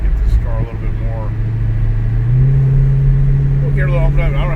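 A car accelerates on a highway in the DC metro area, its engine drone climbing to a higher steady pitch beneath a voice talking from inside the car.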